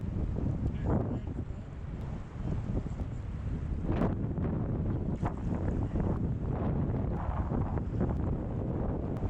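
Gusty wind blows along the Middle Fork of the Salmon River in Idaho, buffeting the microphone in a continuous low roar that swells and eases in waves, with no talking.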